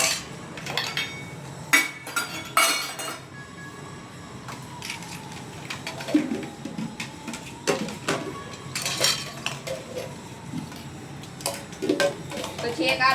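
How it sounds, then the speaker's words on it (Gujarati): Dishes and utensils being scrubbed and rinsed by hand, with irregular clinks and clatters of metal vessels close by, mixed with running water and a voice talking over the work. "જો તો કેવા વાસણ કરે મારો દીકરો."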